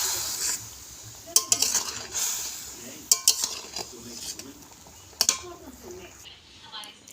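Spoon stirring sour Bata fish curry with raw mango and a little sugar in a pot, with soft scraping and several sharp metallic clinks against the rim, faint and under a quiet background.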